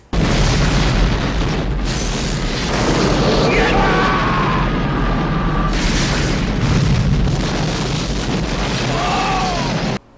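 Movie explosion from Die Hard 2, loud booming blasts and roaring bursts filling the scene, with people talking over it.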